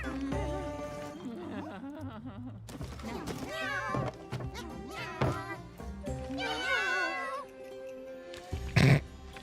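A cat meows repeatedly amid a busy mix of voices and game sounds, the cries rising and falling in pitch, with a sharper burst near the end.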